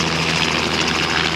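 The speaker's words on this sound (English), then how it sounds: "There are two helicopters all around us right now." Two helicopters circle overhead near an erupting volcano in Iceland, a loud steady rotor and engine roar filling the air with no gaps.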